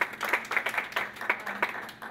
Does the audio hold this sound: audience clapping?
yes